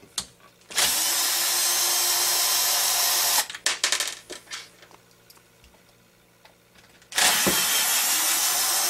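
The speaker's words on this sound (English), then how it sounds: "Removing the pull start is fairly easy. There's 4 screws, one on each corner. Very simply going to go ahead and take those out." A power driver backs out the four corner screws holding the pull start on a CY 23cc engine: a loud, steady whir for about three seconds, then clicks and rattles, a quiet pause, and another long whirring burst.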